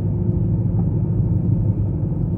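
A few cars drive through a quiet, empty city during a quarantine lockdown, heard as a steady low engine rumble and road noise, close and continuous with no voices.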